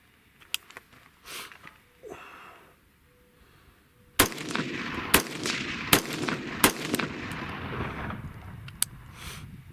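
Rifle shots on an outdoor shooting range during an AK day with 55-grain ammunition: after quieter handling noises, a run of six or seven loud, sharp reports cracks out at an uneven pace, with a heavy ringing echo between them.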